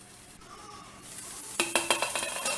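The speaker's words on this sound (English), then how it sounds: "So saute it for about 2 to 3 minutes in a" Cabbage, capsicum and green peas sautéed in a pan over a low flame, a steady soft sizzle joined by a quick run of sharp clinks and scrapes as the vegetables are stirred, close up with no talking.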